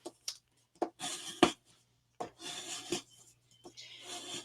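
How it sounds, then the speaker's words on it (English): Vinyl decal on transfer tape rubbed firmly on its backing, close, dry scraping strokes in short bursts with brief pauses between them. "set it face down so you're looking at the back of the decal and give it a good rub"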